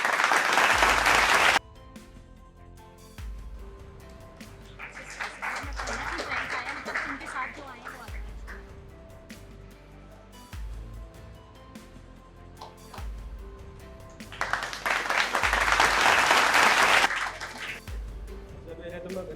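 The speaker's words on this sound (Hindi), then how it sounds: "जोरदार तालियों से अभिनंदन कीजिए।" Loud applause welcoming a candidate onto the stage at an excise constable success ceremony, bursts of dense clapping at the start and again later, with an announcer talking and music in between.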